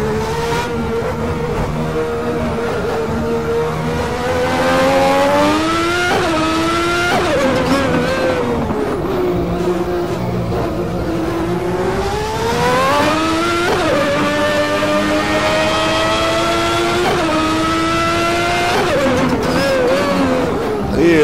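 A 1992 Formula 1 car engine in the racing sim Game Stock Car Extreme screams loud and close, its revs climbing and dropping repeatedly through gear changes in a continuous stream.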